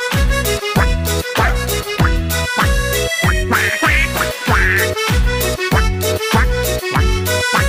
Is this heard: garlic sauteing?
no